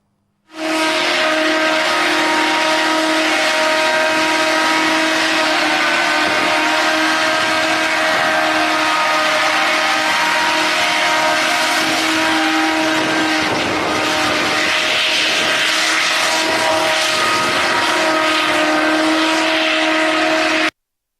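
A Xturismo hoverbike flying in Japan gives a loud, steady high-pitched whine and roar with sustained tonal drone, constant for about twenty seconds without talk.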